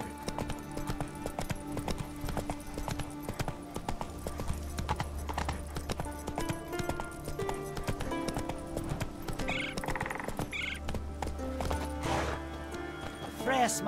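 Roach the horse galloping in The Witcher 3, rapid hoofbeats mixed with whinnies beneath a layer of game music and voices talking.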